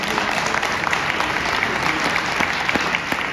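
Steady, dense applause from an audience at a national gathering of working-class neighbourhoods, a thick wash of many hands clapping without pause.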